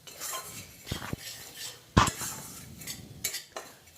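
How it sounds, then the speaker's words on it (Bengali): Semolina dry-roasting in a pan while being stirred, with a few sharp clinks and scrapes of a spoon against the metal at irregular intervals, close and fairly quiet between the louder knocks. "আমি এখানে সুজিটাকে একটু ভালো করে ভেজে নেব"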